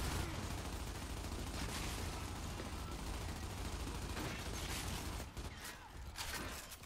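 Dense, continuous gunfire fills a ranked Control match in the shooter game Gears 5, loud and sustained with overlapping bursts and a brief dip near the end.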